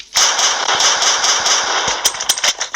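A mega gun fires rapidly in a modded Minecraft Pocket Edition game, a loud, dense burst of automatic shots that ends in a few separate cracks near the end.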